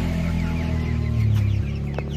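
Hens, including a speckled hen, cluck softly in a henhouse alongside their chicks, with a few short clucks and chirps over a low steady background hum.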